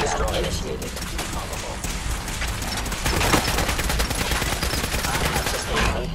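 Nonstop rapid gunfire from Fallout 4, a dense fusillade of shots that keeps going without pause for reloading, loud and close throughout.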